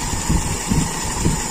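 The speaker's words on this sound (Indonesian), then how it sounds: "Mudah-mudahan teman-teman bisa mendengar ya suara perubahan mesin ataupun getarannya." A carbureted Toyota Kijang engine idles in a workshop, giving a steady close rumble with faint rhythmic pulsing and no talk over it.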